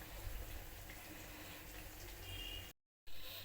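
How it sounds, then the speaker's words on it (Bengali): Eggplant fritters (beguni) frying in hot oil, a continuous bubbling and crackling hiss that holds steady, breaks off for a moment, then resumes. "এই দেখো বন্ধুরা, বেগুনি ভাজা হচ্ছে।"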